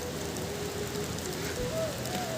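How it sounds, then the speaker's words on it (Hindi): Heavy rain falling steadily in a mountain forest, a dense continuous hiss close around the listener with faint whistling tones over it and no speech. "और बारिश जो है वो काफ़ी तेज़ लग गई है।"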